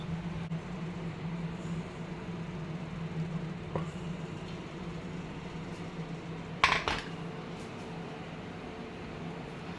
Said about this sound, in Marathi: आता मी उडलीचा कुकर बंद करते तर मी उघडते